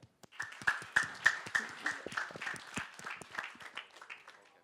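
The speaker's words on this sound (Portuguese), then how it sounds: "Palmas pro Soba" A university social-media lecture audience in Brazil claps for a company CEO invited up on stage. Fairly quiet, scattered clapping quickly builds into a dense patter, then gradually thins out.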